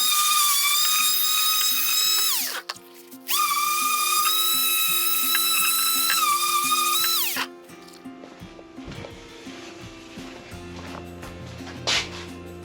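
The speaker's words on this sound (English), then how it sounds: "let me sand this and see" A power sander whines at a high pitch in two sustained bursts while smoothing a homemade wooden present, separated by a brief pause, followed by quieter handling noises and workshop clatter.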